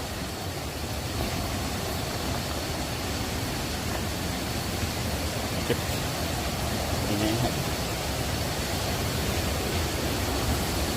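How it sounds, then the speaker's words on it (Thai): Pha Kluay Mai waterfall in Thailand flowing in a steady, dense rush of falling water, loud and constant throughout with no breaks. "นี่คืออีกหนึ่งจุด ของน้ำตกครับคือผากล้วยไม้"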